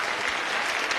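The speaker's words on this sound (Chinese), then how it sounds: "连台下的观众都为他鼓掌。" Studio audience at a Chinese relationship-mediation TV show breaking into steady applause, a dense wash of clapping that fills the whole moment, with no voices over it.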